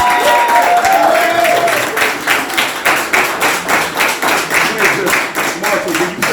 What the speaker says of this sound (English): So I think y'all should give her another round of applause.